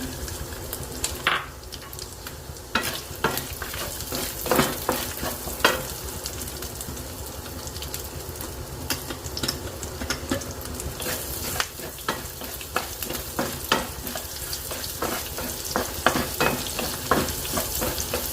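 Onion stems and bottom ends frying in a tablespoon of oil for a Christmas special fried rice, a steady close crackling sizzle with scattered sharp pops and clicks running throughout.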